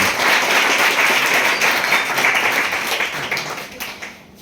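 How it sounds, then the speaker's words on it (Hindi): Loud, close applause from the crowd at a school results honours ceremony welcoming a speaker, a dense burst of clapping that holds strong before tapering off at the end. "जोरदार ताली से स्वागत है।"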